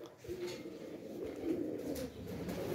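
Quiet, continuous cooing from a flock of pigeons kept by a Punjabi fancier, low and murmuring with a few brief knocks in the background, no voices.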